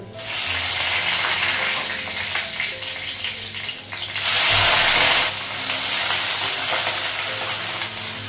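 Panch phoron and dried red chili crackle and sizzle in hot oil with a dense steady frying hiss that surges into a louder spitting burst midway, then settles back.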